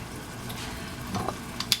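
Pork frying in a pan for Hiroshima-style okonomiyaki, a soft steady sizzle with a few brief louder crackles near the end, close and alone.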